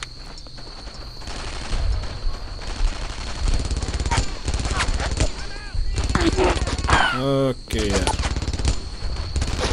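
Gunfire from the World War II shooter Brothers In Arms: Earned in Blood crackles in dense, overlapping bursts amid battlefield noise, with a brief voice and shouted game dialogue mixed in.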